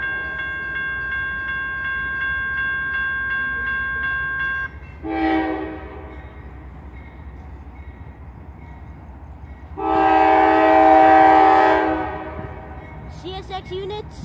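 A CSX freight train rumbles past with its horn blaring, one long steady blast followed by two more sustained blasts over the continuous rolling rumble of the cars.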